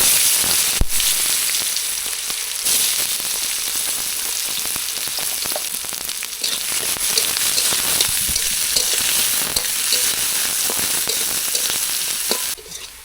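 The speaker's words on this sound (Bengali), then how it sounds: "ওর মধ্যে কেটে রাখা পেঁয়াজগুলা দিয়ে দিলাম" Chopped onions with fennel seeds and a piece of cinnamon fry in hot oil for a spicy Bengali chicken pakora curry, giving a loud, steady sizzle with occasional stirring scrapes throughout.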